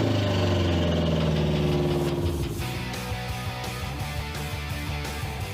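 A carburetted car engine idles steadily after carburetor adjustment, a loud, continuous low rumble with regular pulsing; the engine note shifts and settles lower about halfway through, with no talk.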